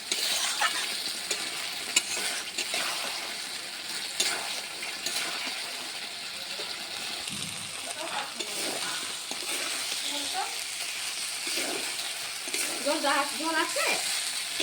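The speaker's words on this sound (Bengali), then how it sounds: "ভালোভাবে কষানো হয়ে গেছে, কড়াই থেকে তেল ছুটে গেছে, হালকা তেলের রান্না" Curry with green chilies being stir-fried in a wok, a steady close sizzle with intermittent stirring scrapes throughout, and some brief faint voice sounds near the end.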